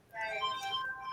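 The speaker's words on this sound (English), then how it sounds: "it's the phone ringing" A phone ringing with a steady electronic ringtone, a short bright warbling tone heard alone at moderate volume for about a second.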